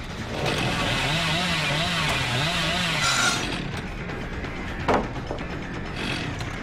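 The Hillbilly's chainsaw roars in the horror game Dead by Daylight. A loud, buzzing engine rises and falls in pitch for several seconds, then drops back to a low rumble, with a brief thud near the end.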